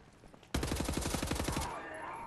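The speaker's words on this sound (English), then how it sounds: "Get out your shotgun and do the ricochet rounds." A shotgun fires ricochet rounds in the Wolfenstein shooter, a loud rapid volley of cracking bursts lasting about a second, then a ringing tail.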